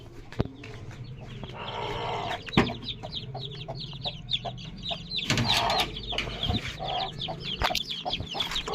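A hen being given water in a backyard coop clucks nearby in repeated short, rhythmic bursts, with a few louder squawks and rustling mixed in, close and clear with no speech.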